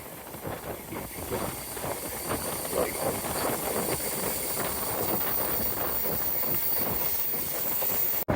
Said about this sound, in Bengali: আমাদের ট্রেনটি আরিয়াল রেল সেতু অতিক্রম করবে